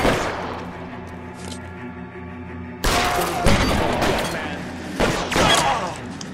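Gunfire in the video game L.A. Noire, a sustained din of game action that gives way to a louder stretch of sharp, cracking shots and bursts in the second half, with a voice briefly heard.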